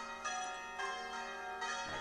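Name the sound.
church bells ringing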